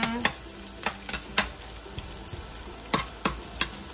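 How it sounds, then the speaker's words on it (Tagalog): Garlic, onion and ginger sautéing in a pan for chicken tinola: a steady frying sizzle broken by sharp, irregular clanks of a utensil stirring against the pan, close and fairly loud. "Maggisa tayo ng bawang, sibuyas at luya muna"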